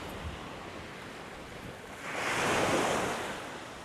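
Sea waves break on the beach at Puerto Portals, Mallorca, a soft, steady rush that swells into a louder surge of surf midway, with some wind buffeting the microphone.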